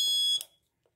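Buzzer alert on ultrasonic-sensor goggles built for a blind person, driven by a microcontroller board and 9-volt battery, gives one short, sharp, high-pitched beep that cuts off quickly into silence.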